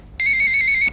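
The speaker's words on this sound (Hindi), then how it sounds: "तुमने टेलीफोन नहीं उठाना" A telephone gives one loud electronic ring, a steady two-tone trill that starts abruptly and holds for most of a second before cutting off, close and alone.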